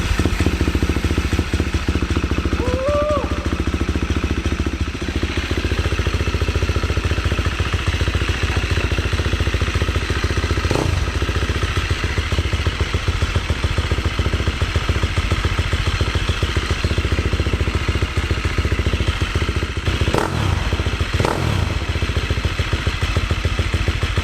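A motorcycle with electric start idles steadily, its engine note a continuous close mechanical rumble with light clatter, running alone without talk for the whole stretch.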